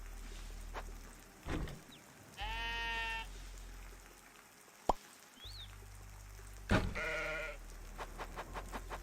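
Sheep in the top-down survival game Necesse bleat in two clear calls, each a short wavering bleat over a steady low game hum, with soft plops and small clicks scattered between them.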